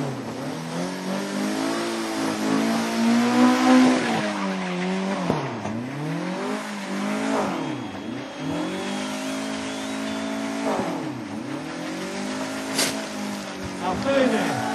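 Drift cars at a racing club drift show in Corfu, engines revving and rising and falling in repeated swooping sweeps, loud and continuous, with a crowd and an announcer's voice under the noise.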